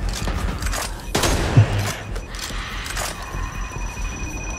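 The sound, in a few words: light machine gun fire in the video game Back 4 Blood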